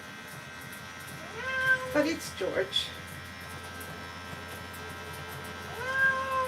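A Ragdoll cat meows a few times during grooming, the cries near and moderately loud over a steady electric hum, with a person speaking briefly.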